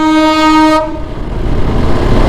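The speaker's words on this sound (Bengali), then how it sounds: "ট্রেন যাচ্ছে।" A train near Farakka sounds a loud, sustained horn up close, which cuts off after under a second, leaving the heavy rumble and clatter of the passing cars.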